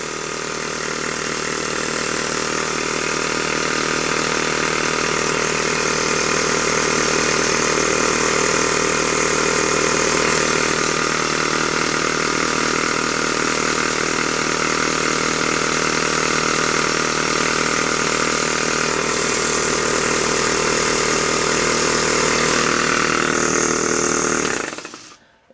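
A Myfordboy Wobbler model steam engine runs on compressed air at about 10 psi, giving a steady, dense, continuous mechanical chuffing and hum that holds close and even for the whole stretch before stopping abruptly at the end.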